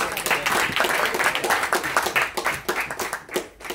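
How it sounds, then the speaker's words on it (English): An audience at a talk for international speakers bursts into dense, close applause, many hands clapping continuously, with murmured voices mixed in under the clapping. "Give her a round of applause"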